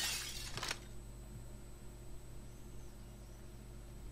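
Glass shatters inside a building in the video game Payday 2, a sharp loud crash in the opening moment that quickly dies into a steady low hum and faint tone.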